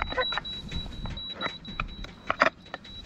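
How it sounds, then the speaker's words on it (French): Electronic beeps from a sailboat's instruments on the Voilier Maïe while moored at low tide, a steady high tone with brief chirps repeating over low background rumble. "Donc ça bip, ça bip, ça bip."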